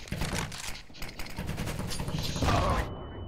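Rapid gunfire in a CS:GO match, dense bursts of shots rattling continuously through the whole stretch, loud and close, building toward a heavier volley near the end.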